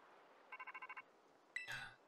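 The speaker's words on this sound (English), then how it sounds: "I'm getting a phone call!" A phone ringing during Pokemon Scarlet and Violet gameplay: a faint, quick burst of evenly spaced electronic beeps, followed by a short click and a brief chime.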